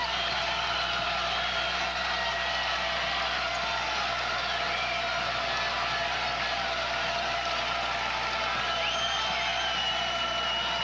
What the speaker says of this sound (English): Knapp Center crowd on its feet trying to fire up the D.